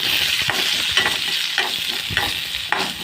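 Onion, tomato, chili, cumin and garlic roasting in a little oil, with a soft continuous sizzle broken by repeated scraping stirs of a spoon against the pan, close and without voices.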